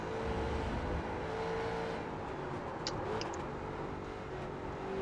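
A street stock car in the iRacing game drifts at Rudskogen, its engine a steady close drone and whir with tire noise running throughout, holding fairly even and moderately quiet.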